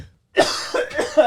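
A person coughs several times in quick succession after a brief silence, harsh and close to the microphone.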